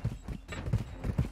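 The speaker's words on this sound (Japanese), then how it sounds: "マジで足音でかくて助かる" Footsteps in Call of Duty: Modern Warfare II, four loud, evenly spaced thuds on a hard surface, close and prominent, like a player running nearby.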